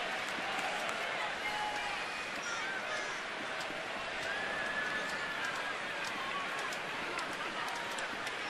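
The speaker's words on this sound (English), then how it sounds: "the Nats fans, another great crowd in hand tonight, making some noise here in the bottom of the second" Nationals fans in a baseball stadium make a steady roar of crowd noise throughout, with scattered shouts and cheers rising from the stands, while a commentator talks over it.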